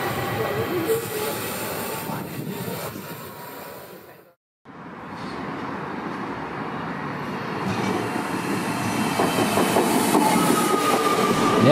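A Vienna S-Bahn line 45 train runs loud and close, a continuous rumble with rail clatter and some high squealing tones, briefly cutting out before swelling again louder toward the end.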